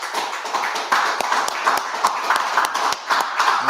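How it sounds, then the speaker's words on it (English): An audience at the closing of the Feast of Unleavened Bread on 125th Street, West Harlem, claps up close in quick, fairly rhythmic strokes, many sharp hand claps for several seconds with faint voices beneath. "Everybody clap it up for the closing"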